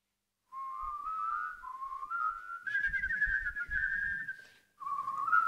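Several people whistle a wavering, rising tune together, clear and close, with a few soft thumps and breaths beneath and a brief pause before it resumes.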